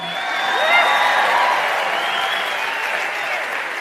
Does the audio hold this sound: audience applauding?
yes